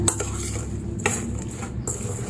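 Chillies are tossed and mixed with turmeric and salt in a bowl for pickle, giving a few light metallic clinks and scrapes over a soft steady rustle, close and unaccompanied by speech.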